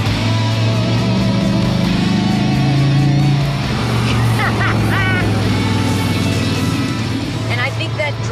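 A 1972 De Tomaso Pantera's combustion engine drones loudly while driving, with a steady low rumble and road noise under ongoing conversation inside the car.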